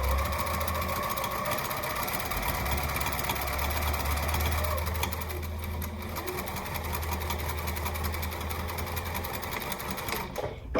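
A sewing machine runs steadily, stitching the quilted layer of a tote bag pocket in a continuous, close mechanical whir that lasts nearly the whole time before stopping.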